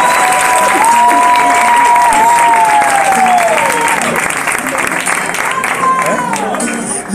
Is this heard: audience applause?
yes